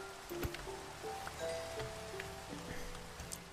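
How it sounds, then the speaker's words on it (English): Steady rain falls in a Minecraft-style video game, a soft continuous hiss of drops beneath faint tonal game music, with no talking. "And it's raining again."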